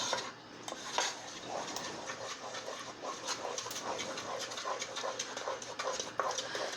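Homemade playdough mixture is stirred in a pot, a quiet scraping and clinking of a utensil against the pan with soft irregular knocks throughout; no talking.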